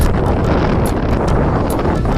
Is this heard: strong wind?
yes